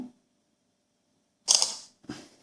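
A Samsung Galaxy S4 fires its camera shutter sound while taking a photo: two crisp, close mechanical-style clicks in quick succession after a moment of silence.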